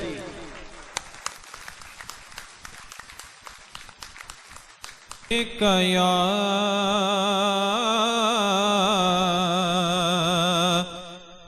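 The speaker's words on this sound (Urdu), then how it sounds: "بھرپور تالیاں نال استقبال جناب صاحبزادہ فیض مہر عزیز" Applause greets Sahibzada Faiz Mehr Aziz at a Punjabi mushaira, with scattered claps for about five seconds before a loud, sustained tonal sound of music or singing takes over.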